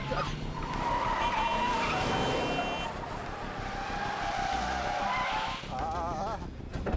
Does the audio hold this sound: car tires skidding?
yes